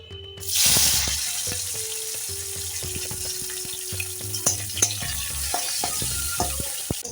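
Vegetables sizzle and crackle in hot oil close up, with a burst of hissing near the start and occasional utensil clinks and stirring.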